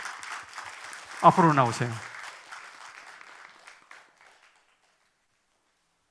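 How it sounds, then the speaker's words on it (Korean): Applause from a church congregation at a New Year's Eve service, a scattered wash of clapping running under a voice, then thinning out and fading to silence after about four seconds. "박수 한번 보내주세요."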